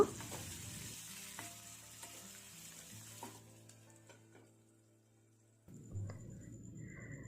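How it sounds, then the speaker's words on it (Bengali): Potato pieces with a little turmeric fry in hot oil with a faint, steady sizzle. A few soft clicks and utensil taps sound near the start, then the frying hiss rises again toward the end. "তেল গরম হয়ে গেলে এর মধ্যে আমি টুকরো করে কেটে রাখা আলুগুলো দিলাম"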